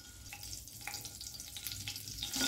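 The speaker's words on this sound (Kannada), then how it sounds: "ಈಗ ನಾನು ಜೀರಾ ಸಿಡಿಲಿಕ್ಕೆ ಅದಾ ಸ್ಟಾರ್ಟ್ ಆಗ್ತದೆ" Half a tablespoon of cumin seeds spluttering in hot cooking oil in a pan on a gas stove, a soft continuous sizzle with faint scattered pops that grows a little louder toward the end.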